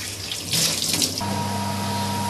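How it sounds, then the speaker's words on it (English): Tap water runs steadily into a sink while minced beef is rinsed in a colander for keema curry, a close, continuous splashing stream that settles into an even hiss with a faint hum. "make sure you wash it thoroughly on a colander"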